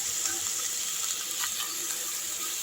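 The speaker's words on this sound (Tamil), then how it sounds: "நம்ம சிக்கன் எடுத்து போட்டுக்கலாம்." Chicken pieces frying in a pan with ginger garlic paste for a curry leaf chicken chukka, giving a steady, close sizzle throughout with faint stirring scrapes.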